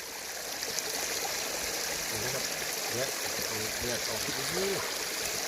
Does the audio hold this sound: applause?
no